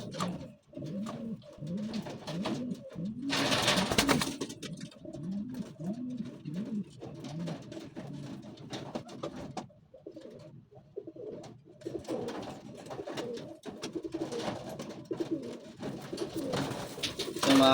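Pigeons cooing close by in repeated soft, rolling low coos, several birds overlapping, with a brief burst of other noise and faint background sounds.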